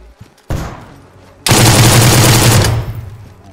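Gunfire and grenade blasts in the video game DayZ: a short burst of shots, then a louder, sustained automatic volley that fades out, all close and heavy, with no talking.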